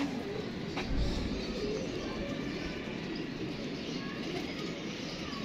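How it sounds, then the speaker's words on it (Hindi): Pigeons cooing softly and repeatedly over a steady, noisy background, with faint chirps mixed in. "अली भाई ये बड़ा पुराना कबूतर है।"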